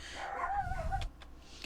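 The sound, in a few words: dogs barking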